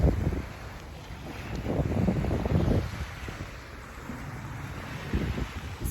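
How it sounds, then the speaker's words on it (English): Ocean waves on the Mexican coast wash in steadily, with broad surges rising and falling over continuous wind noise buffeting the microphone, fairly loud and close, no voices. "looking at the ocean, listening to the waves"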